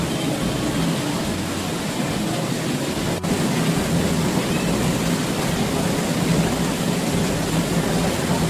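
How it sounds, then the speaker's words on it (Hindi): Heavy morning rain pours steadily outside, a dense, loud, unbroken roar that fills the whole stretch, with one sharp crack near the middle and no talking. "बाहर बहुत ज़ोरों से बारिश हो रही है"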